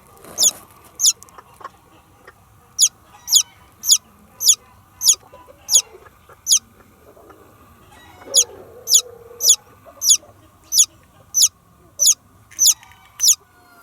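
Chickens with a newly hatched silver-grey chick give repeated high, thin peeping chirps in a steady rhythm, clear and close, over a faint low background hum with a few soft clucks and rustles, no one speaking.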